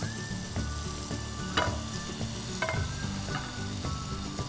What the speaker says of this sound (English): I'll heat some butter again.